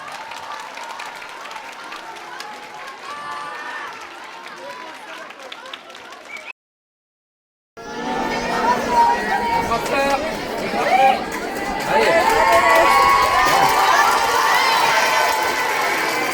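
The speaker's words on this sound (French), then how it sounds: "Osez applaudir chaleureusement," Audience at a youth performance festival in a community arts centre claps, faint applause under a voice at first, then after a brief silence a louder burst of clapping, cheering and children's shouts swells and holds.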